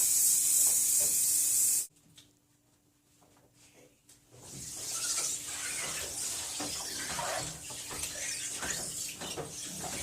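A loud, steady hiss of spray adhesive from an aerosol can for about two seconds, then a pause and softer rustling and rubbing noises close by.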